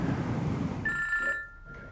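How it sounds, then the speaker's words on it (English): A telephone ringing tone on an outgoing call: one clear electronic ring burst partway through, then a fainter ring continuing at a lower level over steady room noise. "I'm going to phone Abby"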